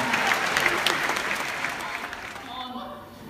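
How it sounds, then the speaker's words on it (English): An audience claps loudly at a sixth form school revue, dense clapping that gradually thins and fades toward the end as voices start to come through. "Massive round of applause."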